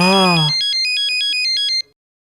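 A short tonal voice-like sound leads into a phone ringtone, a bright repeating electronic melody of pulsed notes that stops abruptly.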